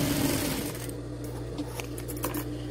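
A sewing machine runs steadily and loud while stitching a small fabric strip right sides together, then eases off into lighter clicks and handling noises.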